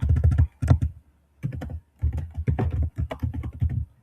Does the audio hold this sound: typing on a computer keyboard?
yes